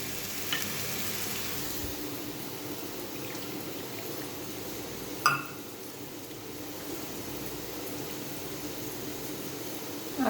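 Ginger, chili and cumin paste fries in a pan with a continuous, even sizzle and hiss, interrupted once midway by a short, sharp metallic clink; no voices.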